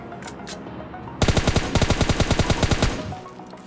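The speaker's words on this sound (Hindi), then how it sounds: "ये बंदा मेरे ऊपर फायर करता है" Gunfire in the mobile game PUBG Mobile Lite comes as a rapid string of loud automatic shots in several quick bursts, preceded by a couple of fainter distant pops.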